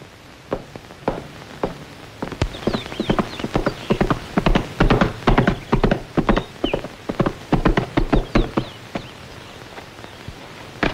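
A horse's hooves clip-clop at a walk on a hard surface, a long run of close, crisp irregular strikes with a brief whinny, in a 1972 period film setting.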